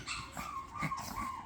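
A maltipoo puppy gives faint, brief whimpers and high yips in a quick cluster of short cries, close but quiet, with no talking.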